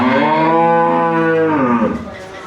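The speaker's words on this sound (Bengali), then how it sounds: "এগুলো বাসার গরু" A dairy cow at a small home farm in Dinajpur gives one long, loud, close moo that sustains for about two seconds, then bends and fades out.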